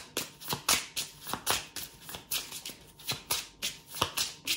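Lenormand fortune-telling cards being shuffled by hand, a quick series of crisp riffling bursts repeating in an even rhythm, close and fairly quiet with no talking.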